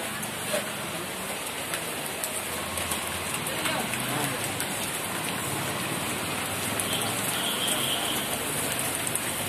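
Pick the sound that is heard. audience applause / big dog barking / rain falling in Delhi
rain falling in Delhi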